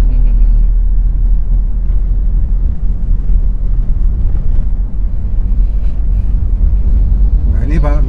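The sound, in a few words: car engine at 1000 rpm in fifth gear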